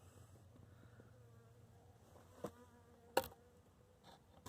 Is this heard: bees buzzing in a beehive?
yes